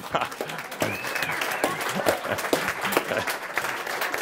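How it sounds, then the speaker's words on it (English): An audience in a hall claps, with several sharp hand-clap bursts over a crowd murmur and a voice talking. "One clap."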